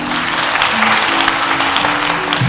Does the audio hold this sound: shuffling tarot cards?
no